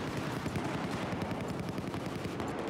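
Battlefield 4 multiplayer combat on the Sunken Dragon map: dense, continuous rapid gunfire fills the whole stretch as a steady rattling wash, loud and unbroken, with no voices over it.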